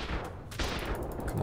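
Continuous gunfire in Ark Survival Evolved during a base raid, a dense, distant-sounding fusillade of overlapping shots and bullet impacts that keeps going for the whole moment with a short break partway through.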